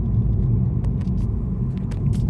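Steady low road rumble from inside a car driving down a road, with faint brief ticks and clicks on top and no talking.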